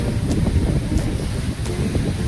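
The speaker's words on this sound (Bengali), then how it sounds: "সেই লেভেলে হাওয়াও দিচ্ছে" Wind blowing by a wide river with ships passing, a steady low buffeting rush against the microphone with faint intermittent gusts, close and continuous with no voices.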